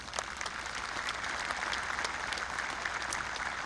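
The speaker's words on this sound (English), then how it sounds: "Let's give them a round of applause." A high school graduation ceremony audience gives a steady round of applause, dense overlapping clapping from a large crowd in an indoor hall, even and sustained without speech.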